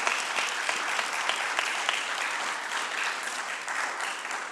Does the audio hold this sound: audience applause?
yes